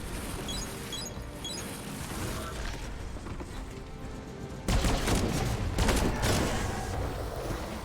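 In Biomutant, gunfire crackles in scattered shots over game music at first, then a louder, denser burst of firing and impacts erupts partway through and continues to the end.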